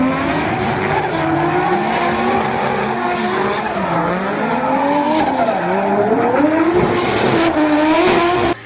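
A car engine roars loud and close, its pitch climbing and dipping as it revs hard, with faint tire squeal mixed in.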